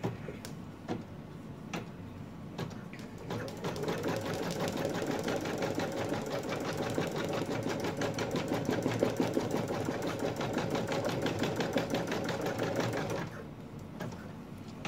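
A sewing machine runs steadily for about ten seconds, its rapid even needle stitching close and clear, placing monkey lovey ears; quieter clicks come before and after.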